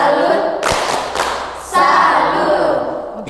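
Children in a catechism class break into loud, energetic clapping and shouting together, two sharp bursts of noise followed by a sustained swell of group voices and claps close by.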